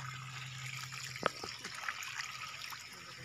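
Irrigation water trickles and flows slowly into a sugarcane field outdoors, a soft continuous liquid wash with faint outdoor sounds.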